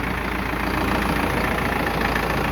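A tractor engine idles just after starting, a loud, steady broadband rumble with a constant low throb and no pauses, close to the mic and with nothing else audible over it.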